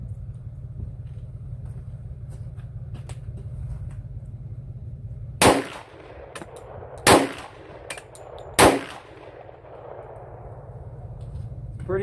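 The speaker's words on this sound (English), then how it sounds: "I'm going to shoot all these rounds with the suppressor off so you can hear the difference." A Glock 10mm pistol firing MagTech ammunition with no suppressor, three loud sharp shots spaced about a second and a half apart, each with a short ringing tail over steady outdoor background noise.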